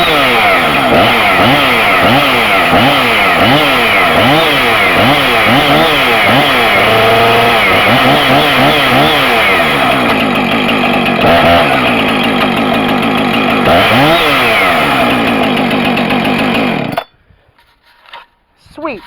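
Chainsaw being cold started on the choke and running loud and close, its engine note revving and dipping repeatedly before cutting off abruptly near the end.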